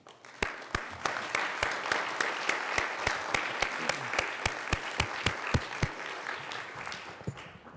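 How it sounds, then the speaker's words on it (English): Parents receive applause at a school board meeting: sharp, evenly spaced claps ring out in a steady beat over a softer patter of hands, then thin out near the end. "So if we can give our parents a round of applause"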